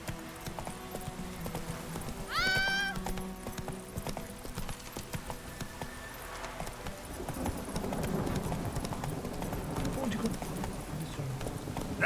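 Hooves of a horse clip-clop in a rhythmic trot in The Witcher 3, with a brief whinny near the start and game ambience around it.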